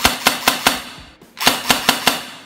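Sijun MK18 Mod1 toy blaster firing in semi-auto: eight sharp, loud snapping shots in two quick groups of four with a brief pause between, close by and alone with no talking.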